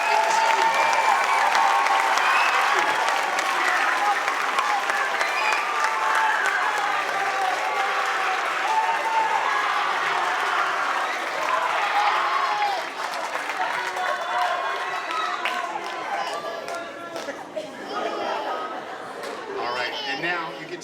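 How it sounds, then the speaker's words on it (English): A large audience applauds steadily for a school district honor band leadership team, dense clapping with crowd chatter and scattered voices mixed in, holding loud for about twenty seconds and thinning slightly near the end. "Round of applause for our entire band leader team here from ABCUSD."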